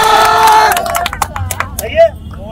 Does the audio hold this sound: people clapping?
yes